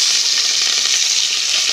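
Onions, curry leaves and green chili fry in hot oil with a dense, steady sizzle and crackle, loud and close throughout with no voices.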